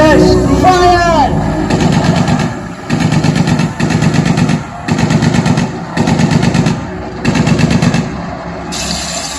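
Staged rifle gunfire for a school play about the Jallianwala Bagh massacre plays as repeated bursts of loud machine-gun fire, about six even volleys with short gaps, following a brief raised voice at the start.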